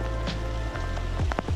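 Rain falling on river water during trout fishing in Ariège, a steady close patter of drops over a continuous low rumble of current, with a few sharper splashes near the end.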